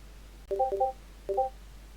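Three short electronic notification chimes play during a recording of a mobile game. Two quick bright beeps come close together, then a third follows after a pause, clear against a quiet background.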